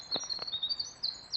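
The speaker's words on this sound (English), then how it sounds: "No sounds of traffic, just the bird calls," Birds chirp and call in a quiet Maine forest, short bright tweets repeating over faint steady background hiss, fairly close with no other sounds.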